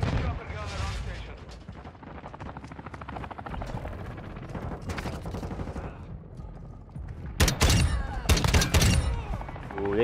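Semi-automatic gun from a first-person shooter video game, sharp reports sounding over game noise and voices, with a loud cluster of shots near the end.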